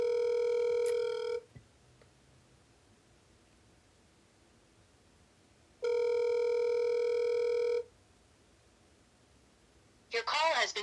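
A telephone rings out in two long electronic bursts separated by a quiet gap, clear and close, before a voice cuts in at the very end.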